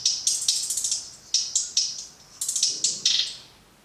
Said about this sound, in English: So the trap hi-hat sounds like this